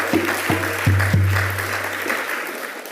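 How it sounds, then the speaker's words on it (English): Applause from an audience at an awards ceremony: a steady, moderately loud patter of clapping over a low constant hum, slowly tapering toward the end. "please give her another round of applause"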